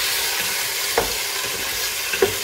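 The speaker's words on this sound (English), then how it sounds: "I'll keep stirring." Pilau ingredients sizzle in a pan while a utensil stirs them, a close steady frying hiss with two sharp scraping knocks.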